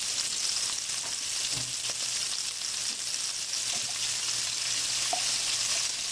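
Onions and garlic frying in a pan after meat has been removed, for turtle sauce piquant: a steady, even sizzle runs throughout at moderate level, with a few faint clicks of stirring and no talk.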